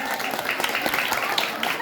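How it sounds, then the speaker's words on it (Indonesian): Audience at a humorous Sundanese religious sermon in a village applauding, a dense wash of clapping with crowd murmur, brief and steady. "Tepuk tangan untuk Pak Komar."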